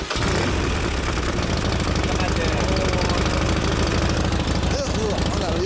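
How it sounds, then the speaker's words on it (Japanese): A 2009 Harley-Davidson XR1200 Sportster fitted with a North American-spec muffler idles close up, a loud, throbbing, loping V-twin rumble that continues steadily with people talking nearby. "エンジン音聞かせてもらいます"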